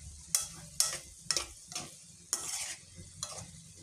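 A spatula scrapes and clacks through pork cooking with pineapple in a pan, several sharp strokes at an uneven rhythm over a quiet sizzle, close and alone.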